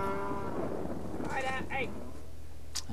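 Cattle mooing while being herded by border collies, a few low calls standing out over steady outdoor background noise, with a brief higher bellow near the middle.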